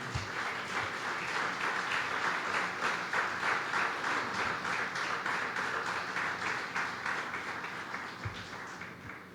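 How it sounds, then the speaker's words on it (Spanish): Congregation at a Spanish-language church service gives sustained applause, dense clapping at steady volume for about nine seconds, fading slightly at the close. "Dale un aplauso al Señor."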